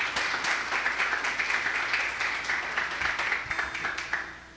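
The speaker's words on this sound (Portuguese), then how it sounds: "pode aplaudir a Jesus, né?" A church congregation applauds, a steady patter of many hands clapping together for several seconds with no talk on top.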